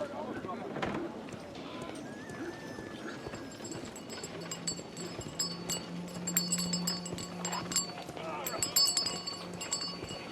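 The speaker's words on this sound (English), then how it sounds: "Horse of Pedro Alvarado." Horse hooves clip-clop on a London street in the Victorian-era game Sherlock Holmes: The Devil's Daughter, a steady mid-distance patter beneath ambient street noise and spoken dialogue.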